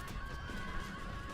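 Cavalry horses in the battle game Rome: Total War neigh in a long, drawn-out whinny over a busy battlefield din with hoofbeats, no voices heard.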